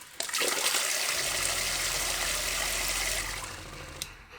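A Shurflo Trail King 7 water pump in a DIY overlanding water system pushes a steady, strong rush of water through food-grade hose for several seconds, close up, with a brief click at the start and end.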